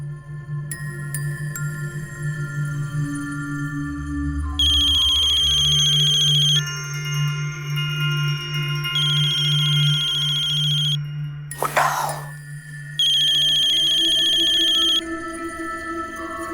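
An outgoing phone call rings through the handset in a Hindi TV drama, giving three long, loud electronic ring tones separated by pauses, with a brief sweeping tone in between and no talk.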